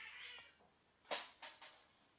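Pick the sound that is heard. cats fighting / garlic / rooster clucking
cats fighting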